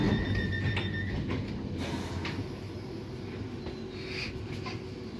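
A small London Underground Piccadilly line train runs with a steady rumble of wheels on track, faint squeals and clatters rising over the drone.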